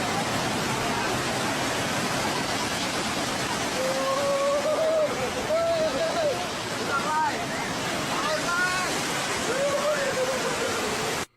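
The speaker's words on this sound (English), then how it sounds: "Why the water moving like that?" Australian flood water rushing and churning in a loud continuous roar, with a voice talking over part of it.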